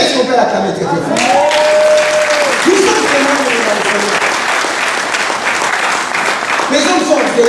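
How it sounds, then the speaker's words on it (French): A live audience claps and cheers loudly; dense applause rolls on without a break, with shouts and whoops rising above it and a voice heard over the crowd. "Est-ce qu'on peut l'acclamer très très fort?"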